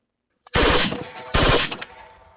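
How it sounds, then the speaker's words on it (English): AI-generated machine gun firing from a side view with smoke: two loud bursts of rapid automatic fire, close and harsh, separated by a brief gap and trailing off, with no voices. "it is a side view of a machine gun firing with smoke and noise"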